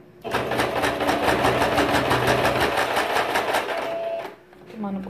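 Sewing machine topstitching a double pencil case, running in a fast steady rhythmic whir of rapid needle strokes for about four seconds, then stopping as a voice speaks briefly.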